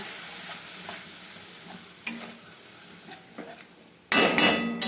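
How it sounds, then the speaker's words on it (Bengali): Spice masala frying with a splash of water in a pan for a fish-bone curry, a low sizzle with occasional spatula scrapes and knocks, then a sudden loud burst of hissing near the end. "এবার আমি খুব ভালো করে মশলাটাকে কষিয়ে নেব"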